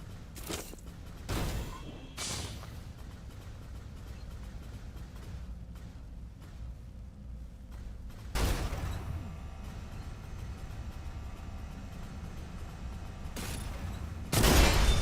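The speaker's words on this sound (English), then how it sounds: "beam machine gun seems pretty good, actually" Rapid bursts of beam machine gun fire ring out in a video game: a loud burst at the start, another around the middle and a final one at the end, with quieter mechanical game sounds in between.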